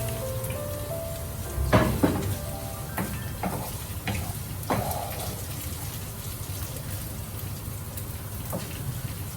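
Thinly sliced ingredients frying in oil in a pan make a quiet, continuous sizzle, with several louder clatters and scrapes from stirring in the first half.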